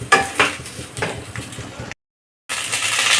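Eggplant frying in a pan over a high flame, turned over and stirred, with several scraping stirs and a steady sizzle, loud and close, then a brief silent gap before the sizzle returns.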